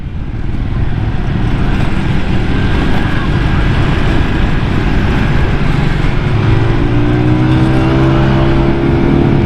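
A Honda Vario scooter rides at speed, its engine droning steadily under heavy wind roar, with a rising tone emerging toward the end as it accelerates.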